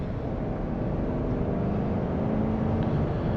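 A 2024 Chevrolet Tahoe RST with a 5.3L V8 and AWD gives a steady, loud low engine drone from inside the cabin, with no one talking.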